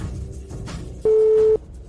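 Telephone tone on a call that cannot be connected, one steady electronic beep about half a second long, loud and clean over faint room noise with a quieter earlier tone.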